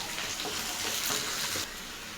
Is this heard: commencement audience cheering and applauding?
no